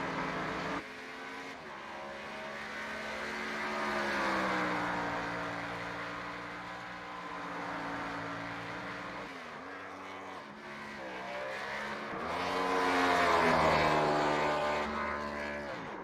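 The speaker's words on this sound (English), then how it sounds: "So he does a little celebratory drift through 1 and 2." A race car in the iRacing sim game doing a celebratory drift through turns one and two at Phoenix after winning a league race: a loud, continuous engine roar with rising and falling pitch as the throttle swings, with a brief dip midway.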